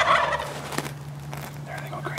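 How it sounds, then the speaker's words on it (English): Wild turkey gobbler calls out in the open during an airgun turkey hunt: a loud, rattling gobble bursts at the start, then fainter gobbling answers later against a steady low hum. "Glenn, we had three big gobblers come in"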